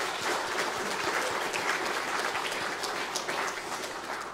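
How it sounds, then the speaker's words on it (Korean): A church congregation applauds newly ordained officers at a service, dense even clapping throughout, moderately loud and without talk. "우리 크게 박수 한번 하겠습니다"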